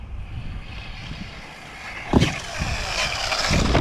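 A TLR Tuned Typhon RC buggy running at quarter throttle gives a rushing electric whine with wind-like noise, a sharp thump partway through, then a louder, rising drive toward the end.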